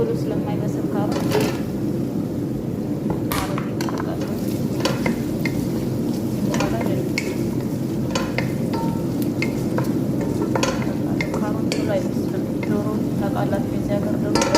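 Carrots stirred into a sizzling pan for an Ethiopian chicken dish, a steady frying hiss with repeated spoon scrapes and taps, while someone talks over it throughout.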